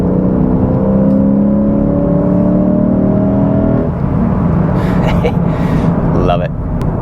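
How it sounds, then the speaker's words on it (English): A 2022 Lexus IS 500 F Sport Performance revs through its exhaust, the engine note rising steadily for a few seconds before settling, with someone talking over the continuous mechanical drone. "There's a little gate that opens in the exhaust above 2800 RPM,"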